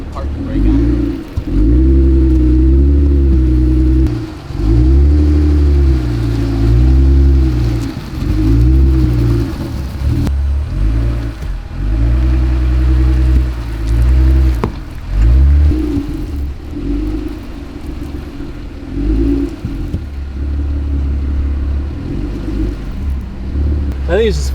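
Off-road vehicle on aired-down tires fitted with homemade ten-dollar beadlocks, its engine droning and rising and falling in loud, close interior rumbles as it drives, with occasional bumps.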